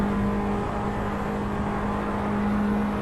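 An Abarth 500 Esseesse on a lap of Monza in the Assetto Corsa racing game gives a steady, quiet, droning hum with a faint constant whine, no clear revving changes.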